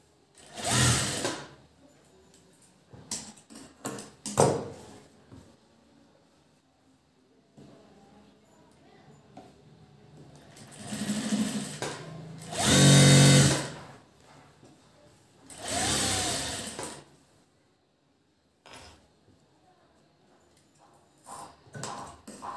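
Sewing machine stitching a side seam on cloth, running in several separate bursts of varying length with quiet pauses between, close and fairly loud, with handling noises in the gaps.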